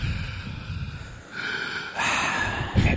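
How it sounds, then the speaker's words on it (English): A man breathes heavily into a microphone, several loud, close, rough inhales and exhales in slow succession, each breath distinct and breathy. "started inhaling and exhaling into his mic"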